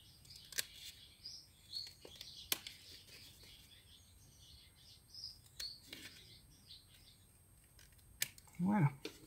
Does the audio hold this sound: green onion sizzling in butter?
no